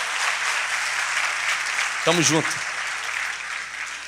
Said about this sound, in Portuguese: Pode aplaudir aí, ajuda o irmão ali.